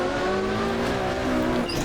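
Porsche 917 race car in a video game power sliding at mid-range RPM with spinning rear tires, a loud steady engine drone with shifting tones and a thin squeal near the end.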